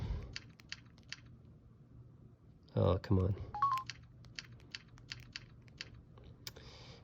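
Sparse clicks of keys pressed on the small physical keypad of an old Samsung phone, a few irregular taps scattered around a brief muttered remark and a short electronic tone.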